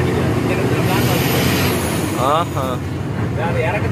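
A truck labouring up the steep Dhimbam hill road, its engine drone loud and close throughout, with a few brief air-brake hisses and people talking nearby.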